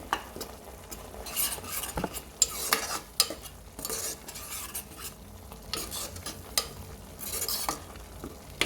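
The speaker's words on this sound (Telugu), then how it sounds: "అల్లం వెల్లుల్లి పేస్ట్ని 2 నిమిషాల పాటు వేగనివ్వాలి." Onions frying in a pan with ginger-garlic paste, stirred steadily with a spoon; a continuous sizzle runs under repeated scraping strokes against the pan, close and moderately loud, with no talking.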